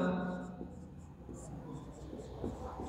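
Scratchy strokes of writing on a board during a biology lesson on flowering plant morphology, short marker or chalk scrapes under a teacher's nearby speech and a faint background hum.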